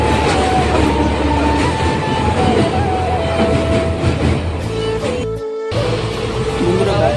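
Inside a crowded general coach of a moving train, a loud continuous rumble and clatter of wheels on rails with a busy murmur of passengers' voices throughout, and a brief dropout near the end.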